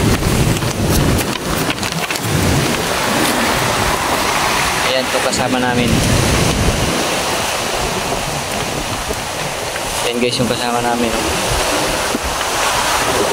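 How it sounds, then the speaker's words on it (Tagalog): Strong wind gusting steadily across a campsite at night, a continuous roaring broadband rush with buffeting against the tent and microphone, while people talk over it throughout. "hindi kami makatulog kasi sobrang lakas ng hangin"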